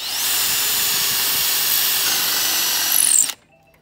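A FAMAG countersink drill bit, made in Germany, cuts into wood with a steady, loud, close whine for about three seconds, rising briefly at the end before stopping abruptly.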